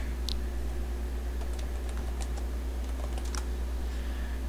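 Scattered keystrokes on a computer keyboard while renaming a folder, a few light, irregular clicks over a steady low hum, close and quiet.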